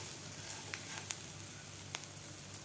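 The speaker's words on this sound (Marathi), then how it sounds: "आपल्याला हे मिरच्या फ्राय करून घ्यायच्या आहेत" Green chillies fry in a pan for masala mirchi, giving a quiet, steady sizzle with a few faint crackles and pops and no voices.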